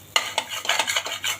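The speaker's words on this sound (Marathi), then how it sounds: "आपल्याला हे तुपामध्ये 1-2 मिनटं छान परतून घ्यायचं आहे." A spoon scrapes and stirs jowar khichdi mixture sautéing in ghee in a heavy-bottomed pan. Quick repeated strokes sound close, with a faint sizzle underneath and no talk.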